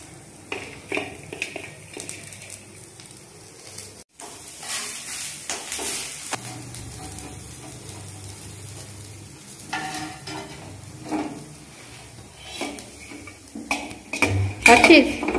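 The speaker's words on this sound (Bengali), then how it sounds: "এখন এর মধ্যে দিয়ে দেবো পেঁয়াজ।" Onion and capsicum stirred and frying in a pan for egg rolls, a steady sizzle broken by scraping stirs and a few clinks of utensil on metal, with voices talking over it at times.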